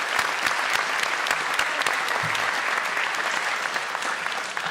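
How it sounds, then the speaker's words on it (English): Audience applause at a high school athletic banquet after sponsors are thanked: a dense, steady burst of many hands clapping that fills the room for the whole stretch, loud and continuous with no talk over it. "Let's give all those folks a big round of applause, please."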